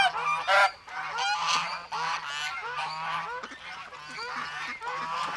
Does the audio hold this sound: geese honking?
yes